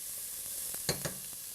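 Onions and garlic sautéing in a soup pot, a soft steady sizzle with a couple of quick stirring scrapes partway through, nearby and fairly quiet.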